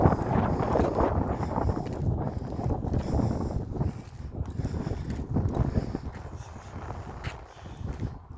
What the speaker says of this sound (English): It's a bit windy too.